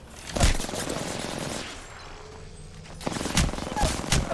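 Rapid bursts of gunfire in the video game Apex Legends crack out loudly, with sharp volleys at the start and a cluster of shots near the end, separated by a quieter stretch.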